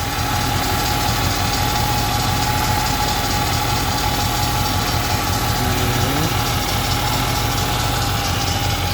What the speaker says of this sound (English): you can hear that alternator making that noise. That's that old alternator right there.